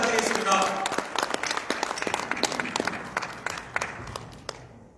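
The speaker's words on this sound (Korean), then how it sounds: "뜨거운 박수 한번 부탁드리겠습니다" Audience applause at a regional development policy forum in Jeonbuk: a dense wash of clapping that swells early, then thins into scattered claps and fades out by the end.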